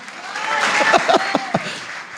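Brief congregation applause at a church service, a short burst of clapping swelling under a few voiced calls and exclamations, fairly loud and ragged rather than sustained.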